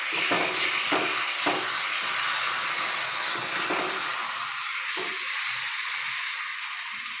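Irpe fish frying in oil on a slow flame, a steady hissing sizzle with a few sharp spitting pops early on, staying moderately loud and fading slightly toward the end.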